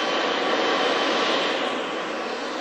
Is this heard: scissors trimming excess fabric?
no